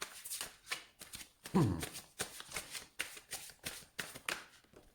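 Symbolon tarot-style cards being shuffled by hand for a reading, a quiet close series of rhythmic riffling flicks, about a dozen soft bursts with one louder snap.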